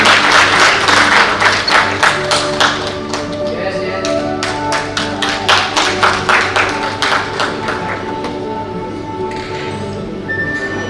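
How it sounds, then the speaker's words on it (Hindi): Audience applause fills a ceremony honouring guests at an India–Vietnam cultural event, loud sustained clapping with a few rhythmic beats in it, fading toward the end under a low steady tone. "तालियां बजती रहनी चाहिए।"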